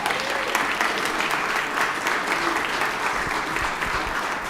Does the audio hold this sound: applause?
yes